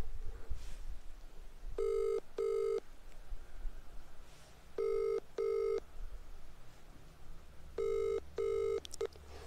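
An outgoing call to a manager rings unanswered, its paired ring-back tones repeating three times at a steady rhythm, fairly faint over a background hiss.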